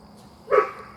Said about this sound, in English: Just my dog, sorry.